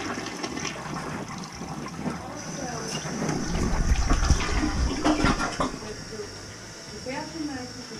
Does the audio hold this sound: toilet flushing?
yes